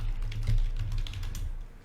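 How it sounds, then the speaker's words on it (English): Rapid, continuous typing on a computer keyboard, close and fairly loud, with dense overlapping key clicks while player names are entered for a football card break. "So let me start typing in our players."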